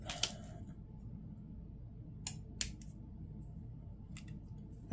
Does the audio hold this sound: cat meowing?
no